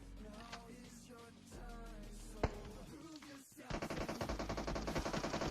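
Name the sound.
gunfire in the video game PUBG Mobile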